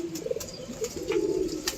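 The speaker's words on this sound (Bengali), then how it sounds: "এগুলো সব মাদি কবুতর" Pigeons coo softly in a loft of female birds kept together, some flying breeds and some resting, with low warbling calls rising and falling over a steady murmur of background noise.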